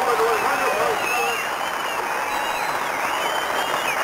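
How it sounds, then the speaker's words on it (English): Rugby sevens crowd in the stand at the Hawick 7s in 1994 gives a sustained ovation, dense applause and cheering with whistles rising over it, while a commentator talks throughout. "They're delighted in the stand. Tremendous ovation for them."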